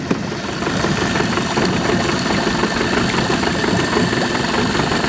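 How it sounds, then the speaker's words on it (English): An outboard motor powering a dam sealer hopper idles steadily with a rough, knocking rumble and constant vibration, loud and close, with no other sounds over it. "This machine doesn't like idling. Like most outboards"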